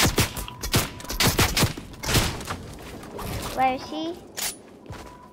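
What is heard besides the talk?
gunfire in a multiplayer shooter video game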